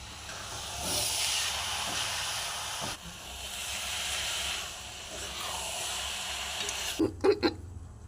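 Jaggery boiling in water for coconut naru gives off a steady, close hissing bubble, with a few sharp clinks near the end.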